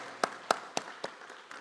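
A church congregation claps in slow, even unison, about five sharp claps that fade softly toward the end, with no one speaking.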